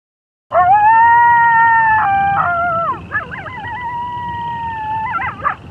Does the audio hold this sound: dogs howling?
yes